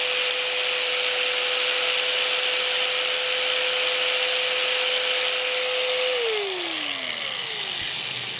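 A belt sander runs close by with a steady, loud whirring motor whine and a high pitched tone that slides downward near the end as the motor winds down.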